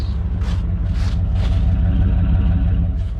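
A Chevrolet Suburban SUV engine with stock exhaust idles steadily and close by, a low rumbling hum with faint rhythmic ticking, no talking.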